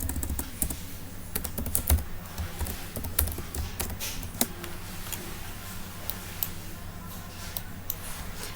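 Typing on a computer keyboard while entering an Excel formula: brisk, close clicks of keys in irregular runs over a steady low hum, with no speech.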